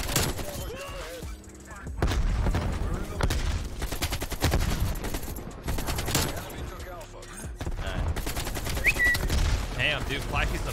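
Rapid bursts of automatic gunfire and explosions in an online shooter match with flak, dense and loud, overlapping throughout with a few short pauses and faint voices now and then.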